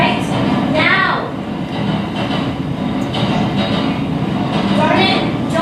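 A moving passenger train fills the scene with a loud, continuous interior rumble and rattle, with brief rising wheel squeals near the start and end and possible muffled voices underneath.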